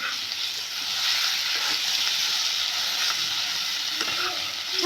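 Mashed potato mixture is stirred into an aloo curry in a hot pan, giving a steady, close hiss of sizzling throughout.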